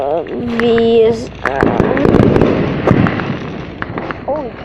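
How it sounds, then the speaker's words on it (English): Fireworks bang and crackle all around at a firework show, loud and close, in a rapid run of bursts and pops, with excited voices and whistling tones mixed in. "there's fireworks on both sides of us right now"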